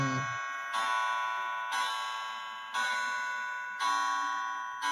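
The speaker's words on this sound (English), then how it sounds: "There's the ding ding dong." Repeated bright ding-dong chime tones, each a clear ringing bell strike that rings out and decays, sounding about once a second in a steady evenly spaced series.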